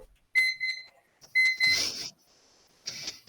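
An electronic timer alarm sounds close up in short bursts of bright, repeated double beeps separated by brief pauses, alongside a rustling noise.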